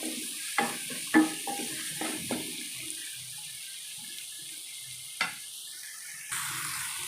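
Tomato pieces seasoned with chili powder and salt cook in a pan with a steady soft sizzle, broken by several sharp stirring clatters near the start and a couple more later, with no talking.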